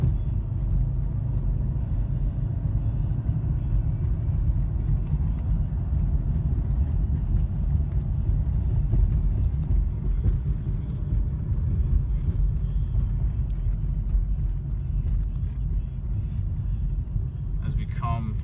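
Supercharged Mercedes E55 AMG cruising with a deep, steady low rumble from the engine and road, heard from inside the cabin at an even level throughout.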